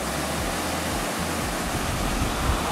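A waterfall in Victoria's High Country, running high after heavy rain, gives a steady, dense roar of rushing water that is loud and close and holds constant throughout, with no voices.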